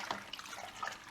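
Cold water sloshes and trickles close by into a home brew fermenter, a soft, continuous liquid splashing that lasts about a second.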